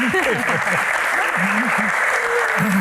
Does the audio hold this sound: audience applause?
yes